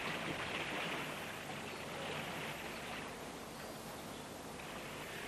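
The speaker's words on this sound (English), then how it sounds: "The noise of the river is a very pleasant accompaniment to weed cutting" River water flowing steadily in the English countryside, a constant soft broadband rush without breaks, moderate and even throughout.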